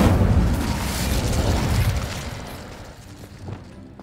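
Incendio fire spell cast in the video game Hogwarts Legacy: a loud, roaring burst of flame that opens at full force, sustains a broad rushing whoosh, then gradually fades with a small flare near the end.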